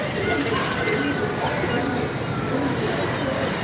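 A flock of pigeons on a rooftop: steady, fairly loud fluttering and rushing noise with soft cooing mixed in, continuous throughout, with muffled voices in the background.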